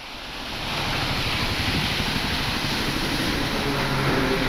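Water spills over a dam in a steady broadband rush, rising in the first second and then holding loud and continuous, a wide roaring wash with no speech.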